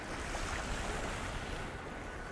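Lake waves slap against a bass fishing boat during a pro tournament, a steady broadband wash of water with wind buffeting the microphone, loud and continuous throughout.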